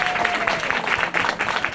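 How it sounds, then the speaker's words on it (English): Applause from a conference audience of parents, dense and steady clapping with some cheering voices mixed in, fairly close and loud for its short length. "Let's clap it up for Doc."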